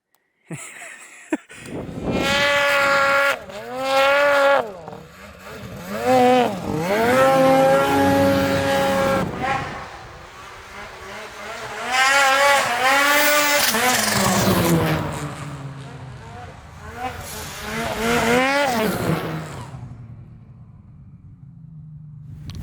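Modified 155 snowmobile engine fitted with BoonDocker performance parts, revved hard in several loud rising and falling bursts with short pauses between, close by, ending as the engine idles down.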